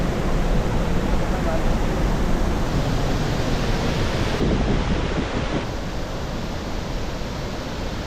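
A waterfall near Ranchi, Jharkhand roars as a dense, steady rush of falling water, loud and continuous without letup, heard alone with no talking.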